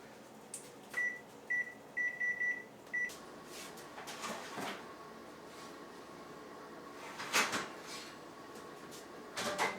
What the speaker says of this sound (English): So I will set a 20-minute timer